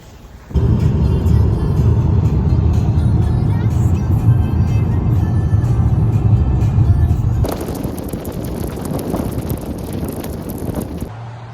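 A Toyota rental car drives through Olympic National Park, its engine and road rumble loud and close alongside wind buffeting the microphone, the low rumble fading later as tire and wind hiss take over.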